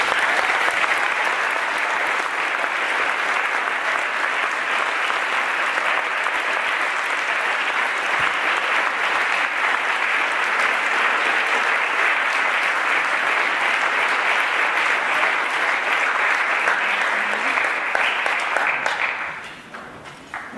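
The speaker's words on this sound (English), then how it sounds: "Another round of applause for our seniors." A concert crowd applauds graduating seniors at a high school concert band spring concert, sustained even clapping lasting about twenty seconds at steady strength, then fading quickly at the end.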